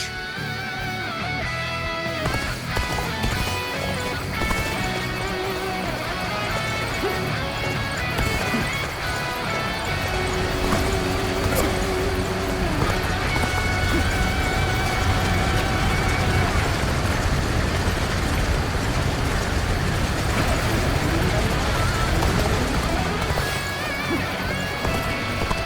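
Horses galloping in the Dynasty Warriors Origins video game during a castle assault, a steady loud rumble of hooves blended with battle noise and music for the whole stretch.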